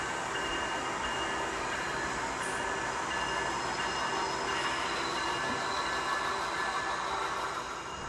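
An HO scale model coal train of about 40 cars rolls along the main line into a yard, giving a continuous close rumble with wheel noise and faint squeal, steady throughout.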